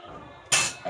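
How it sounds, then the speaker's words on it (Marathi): A metal lid lands on a cooking pot of simmering paneer curry with one sharp, bright clank halfway through, followed by a smaller clink, close and fairly loud over a quiet kitchen background. "एक उकळी यासाठी झाकण ठेवते."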